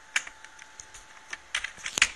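Fingers type on a quiet Genius computer keyboard, soft, close key taps falling in an uneven rhythm with short gaps between small clusters of presses, and no voices.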